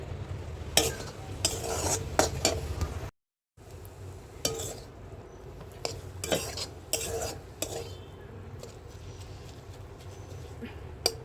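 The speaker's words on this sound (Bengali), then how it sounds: "এবার শাক ভাজাটা আমি নিয়ে নেবো" Radish leaves frying in a pan while being stirred, with loud repeated scraping and clinking of a metal spatula over a steady sizzle, close and busy, with a brief pause partway.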